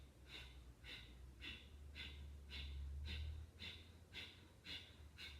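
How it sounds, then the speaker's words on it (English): Slow breath of fire yoga breathing: steady rhythmic forceful exhales through the nose, about two per second, close and soft, with no talking. "begin slow breath of fire."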